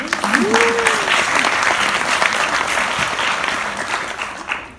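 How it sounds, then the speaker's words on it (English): Audience applause at a writers festival session in Sydney: a sustained, dense wash of clapping from a large crowd, steady and fairly loud, with a brief vocal whoop near the start and voices faintly underneath. "Round of applause, guys."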